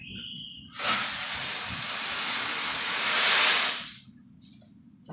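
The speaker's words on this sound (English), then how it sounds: "My water's boiling. I put salt in there." Salted water boils in a pot on the stove while elbow noodles wait to go in for baked mac and cheese, giving a loud, steady rushing hiss that rises abruptly, holds for about three seconds, then cuts off.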